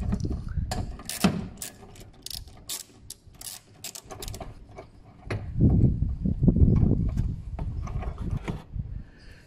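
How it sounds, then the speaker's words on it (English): A socket wrench with an extension ratchets out a bolt on a 2015 Holden VF Commodore ute during a brake or indicator bulb replacement, with quick clicking runs followed by louder rattling and mechanical handling, close up. "I'm going to be using a extension onto my socket now to remove that."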